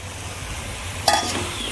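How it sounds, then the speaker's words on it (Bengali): Broiler chicken curry with arum root sizzles in a pan under a steady frying hiss, then a single quick scrape of stirring cuts in near the end. "আও কুচু দিচ্ছি, ভালো করে মিক্স করে নিই।"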